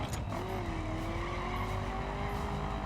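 A car in The Crew on PS4 drifts onto a road, engine droning with a sustained rising tire squeal over steady road and motor noise, fairly close and unbroken.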